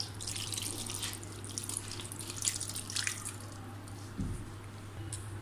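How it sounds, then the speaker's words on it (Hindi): Tamarind water is poured onto yogurt for dahi bhalla, making light trickling and splattering liquid sounds, quiet and close over a low background hum, with a brief heavier splash near the end. "हुण असां विच पैंदे पिया इमली पानी।"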